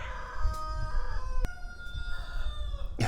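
A rooster on a chicken-breeding farm crows loudly and close, a long harmonic call with a sharp click midway, ending in a brief burst of noise.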